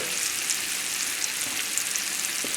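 Butternut squash and bacon sizzling in a pan over a fairly high flame, a dense, even hiss with tiny pops, close and constant, without speech.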